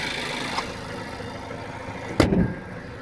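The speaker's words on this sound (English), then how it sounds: "It just purrs. But this is the magical engine here. Turbocharged." A turbocharged Japanese car engine idles smoothly in a steady low hum, close up, with a brief louder thump and rustle partway through and no voices.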